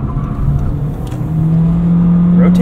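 Engine and road noise from a 2023 Honda HR-V EX-L with all-wheel drive being pushed through a cornering handling test, a steady low drone that rises slightly in pitch toward the end, heard from inside the cabin.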